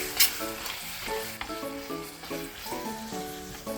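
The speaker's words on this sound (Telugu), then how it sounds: "ఇప్పుడు తగినంత కారం, తగినంత noodles masala, tomato sauce, soya sauce, chilli sauce, కొంచెం కొత్తిమీర వేసుకొని కలుపుకోవాలి." Veg noodles masala mixture with chili powder, tomato, soy and chili sauces and coriander sizzles loudly in a hot pan while being stirred, with steady frying hiss and scraping of the spoon against the pan.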